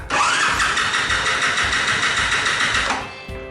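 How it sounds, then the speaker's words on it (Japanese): Honda Super Cub engine with a scored piston cranking on its electric starter at full throttle, a loud rapid whirring churn lasting about three seconds without catching, then cutting off. "アクセル全開でセルを5回回すんだっけな。"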